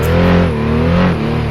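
A USAC sprint car engine in Assetto Corsa revs hard on the Pikes Peak hill climb, its loud, steady drone rising and dipping as the throttle is worked through a hairpin.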